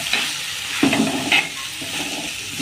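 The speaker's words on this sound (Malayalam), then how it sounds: "ഈ അരപ്പും കൂടെ നമുക്കിതിനകത്ത് നല്ലതുപോലെ ഒന്ന് വഴറ്റാം" Ground coconut spice paste for Kerala squid thoran is sautéed with small onions in a pan, a soft sizzle broken by a few scraping stirs and clunks, close and alone.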